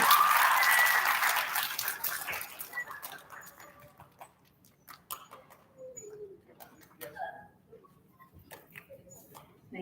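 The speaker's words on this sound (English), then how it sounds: "Let's give our first graders a round of applause." Audience applause for first graders at Palmer Elementary's student recognition ceremony, loudest at the start and fading away within about three seconds, leaving scattered quiet rustles and faint sounds in the room.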